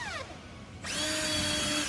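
A power drill pre-drilling holes in wooden laths: a whining spin-down, a short pause, then the motor kicks back in with a steady high-pitched whir that holds to the end.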